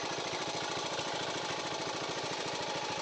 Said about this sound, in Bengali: দেখতে পাচ্ছ মেশিন চলছে এখানে মেশিন চলছে, ধানে জল দিচ্ছি।